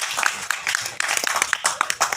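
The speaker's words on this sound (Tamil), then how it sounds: "தயவுசெய்து நீங்களே ஒரு கைத்தட்டல்" Audience members at a stage event clap in scattered, uneven bursts, fairly close, the claps irregular and thin rather than a full ovation.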